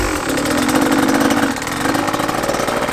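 KTM 150 two-stroke dirt bike engine running steadily at a low, even idle, loud and close with a constant buzzing drone and no one talking.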